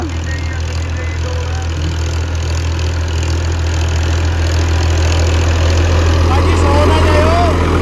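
A Swaraj 855 tractor ploughing a field, its engine holding a loud, steady low drone that never lets up, with a slight rise toward the end.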